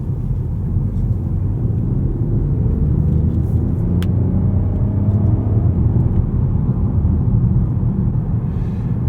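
Peugeot 408 Facelift driving, a steady low engine and road rumble heard from inside the cabin, continuous and fairly loud with no talk.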